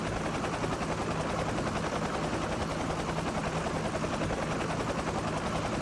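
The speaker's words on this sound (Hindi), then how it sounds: "अटैक हेलीकॉप्टर आया है।" Attack helicopter in a survival video game, a steady loud rotor drone that fills the whole clip with dense broadband noise and a faint chatter of gunfire-like crackle, no voices.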